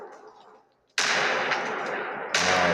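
Two loud, close shotgun blasts from the first-person shooter game Body Cam, each a sharp, broadband crack with a sustained tail, the second following about a second and a half after the first.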